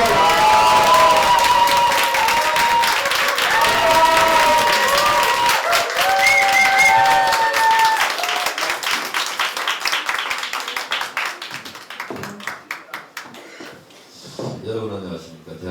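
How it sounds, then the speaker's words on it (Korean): Studio audience at a public broadcast recording of a Korean talk show applauding loudly with some cheering, the clapping thinning and tapering off in the last seconds while a voice starts to speak. "박수."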